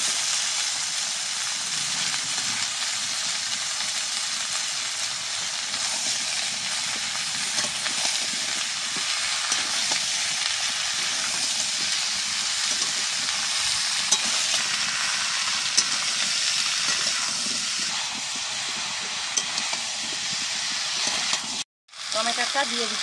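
Green jackfruit and potato pieces with lightly browned onions frying in hot oil, a steady loud sizzle and hiss with stirring that runs continuously, briefly cutting out near the end.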